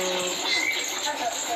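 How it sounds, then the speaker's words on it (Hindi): Birds chirping and cooing outdoors in Bhandirvan forest near Vrindavan, a dense chorus of calls close by, with someone talking over them. "चिड़िया चहक रही है, पक्षी चहक रहे हैं"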